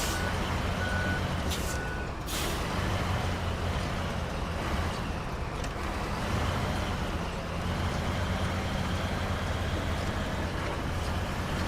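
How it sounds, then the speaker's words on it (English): Big truck engine in the Snowrunner video game, revving with a steady loud roar and low rumble parked outside a chapel, broadband and continuous throughout with a few brief hissing bursts near the start. "I'm revving the engine of this big truck right outside their chapel"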